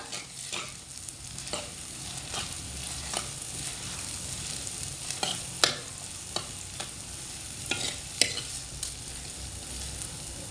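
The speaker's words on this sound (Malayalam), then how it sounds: "ചതച്ച് വെച്ചിരിക്കുന്ന വെളുത്തുള്ളിയും ഇഞ്ചിയും ചേർത്ത് കൊടുക്കാം എന്നിട്ട് നന്നായി ഒന്ന് ഇളക്കി യോജിപ്പിച്ചെടുക്കാം" Crushed garlic and ginger sautéed and stirred in a hot pan, a steady sizzle beneath repeated sharp scrapes and clinks of the spoon against the pan, close and fairly quiet.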